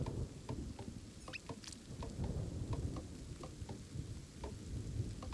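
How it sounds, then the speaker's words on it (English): Rain patters steadily in a video game world while low thunder rumbles underneath, with scattered small clicks and ticks over the quiet, even ambience. "It's raining."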